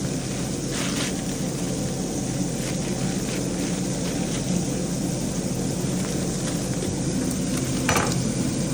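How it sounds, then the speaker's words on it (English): Sausage browns in a frying pan in a kitchen, giving a steady loud sizzle that runs unbroken, with a couple of brief scraping or clattering touches. "So we're getting some color on our sausage, because we already cooked it through."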